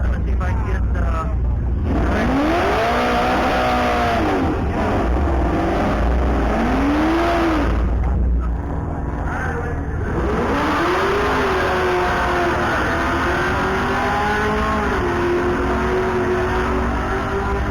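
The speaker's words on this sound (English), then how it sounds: "Alright, so we got this Audi. I think it's an RS6 or something of that nature." Audi RS6 making a drag racing run at a drag strip, engine rising and revving through gear changes in a sustained roar over constant wind and crowd noise, with talk mixed in.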